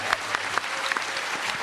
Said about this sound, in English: Give him a round of applause, please.